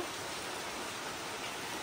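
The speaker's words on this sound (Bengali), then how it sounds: "প্রচন্ড বৃষ্টি হচ্ছে বাইরে" Heavy rain falls outside as a steady, dense hiss, soft and unbroken throughout, with no talking.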